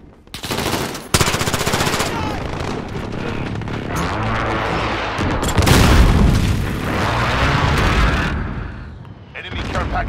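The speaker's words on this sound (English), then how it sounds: "Enemy precision airstrike inbound." Rapid gunfire and heavy booming blasts from a precision airstrike in the video game Call of Duty: Modern Warfare rumble loud and close, in sustained bursts that swell and fade over several seconds, with voices in the mix.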